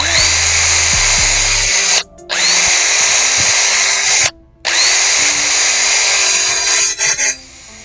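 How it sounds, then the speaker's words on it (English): A loud, close power drill whirs steadily into a wall while installing a Ring doorbell, in three long bursts separated by brief pauses, with some rattling and low thumps at the start. "drill away."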